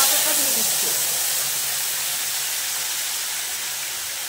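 Cumin paste and ginger paste hit hot oil in a pan, giving a loud steady hiss of frying that eases off slightly over a few seconds.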